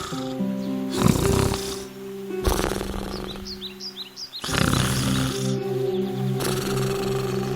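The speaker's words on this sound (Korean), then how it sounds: "늑대는 그곳 나무 아래 누워 코를 골며 잠을 자기 시작했어요" Loud, drawn-out snores repeat in slow cycles, each a rough rasping rumble, with a few faint chirps in the quiet gap between them.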